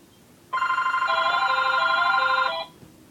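A telephone rings in one steady, loud burst of bright electronic tones lasting about two seconds, alone with no talking.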